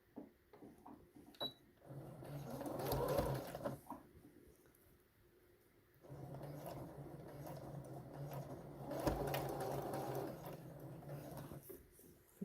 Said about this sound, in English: if you're using a sewing machine, because you could do this by hand, that you're going through lots of layers of fabric